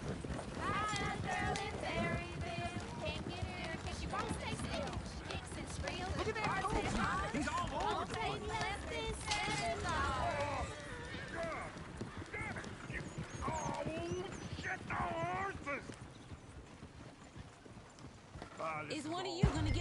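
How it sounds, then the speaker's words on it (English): Rhythmic clip-clop of a horse galloping in the video game Red Dead Redemption 2, hooves pounding steadily under talking voices, with an occasional whinny. "Mój koń za nami zapieprza."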